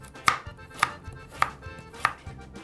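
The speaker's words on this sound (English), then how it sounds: "I'm going to cut these carrots" A kitchen knife chops carrots finely on a cutting board in four evenly spaced, sharp close knocks with quiet scraping between them.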